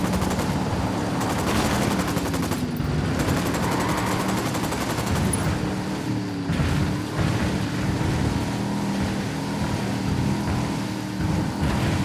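Rapid bursts of machine gun fire in the shooter game Ghost Recon Wildlands crackle over a constant engine-like rumble, dense and loud throughout with no clear speech.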